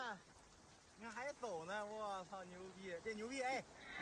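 Heavy rain falls on a Beijing street as a steady, faint wash of noise, heard beneath a voice talking over it throughout.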